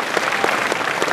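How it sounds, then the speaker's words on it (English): Dense applause from a large crowd at the Eurofurence 2015 convention opening ceremony, a continuous wash of clapping, loud and close, with no speech. "So give those guys a round of applause too."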